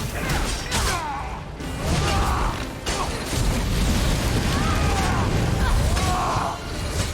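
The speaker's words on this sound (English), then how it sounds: "Explosions." Explosions fill a battle in Elder Scrolls Online, a loud, dense wash of blasts, crashes and creaking impacts that runs almost continuously with brief dips.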